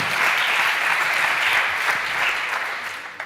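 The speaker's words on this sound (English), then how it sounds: "but big applause for them." Audience applause at an awards ceremony, a sustained wash of many hands clapping that holds steady, then gradually thins out toward the end.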